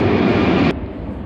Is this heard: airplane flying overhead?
yes